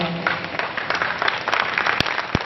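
Applause from an audience at a Hindi poetry recital, a steady wash of clapping with a few sharp individual claps standing out near the end.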